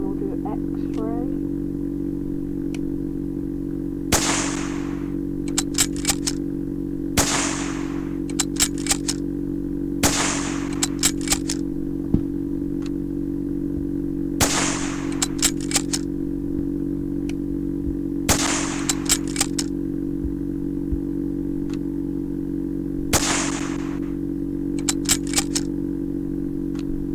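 A French gun in the World of Guns video game fires repeatedly, sharp loud shots in bursts of several rapid cracks spaced a few seconds apart over a constant synthetic hum.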